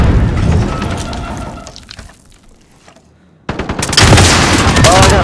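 Loud bursts of gunfire and a rocket blast in a Call of Duty match, dense rapid shots at first, a brief quieter lull, then a sudden heavy explosive burst with crackling debris at close range.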